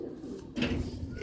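A Sialkoti black-faced pigeon gives a brief, soft coo, close by, against a low background hum.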